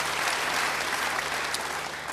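A church congregation claps in a brief, even burst of applause that fills the hall.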